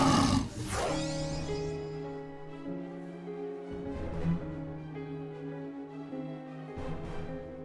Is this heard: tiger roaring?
yes